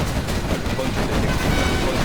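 Quad cannon fire in Command & Conquer Generals Zero Hour, a dense, loud rapid chatter of anti-air cannon shots running continuously amid battle noise, with unit voices talking underneath.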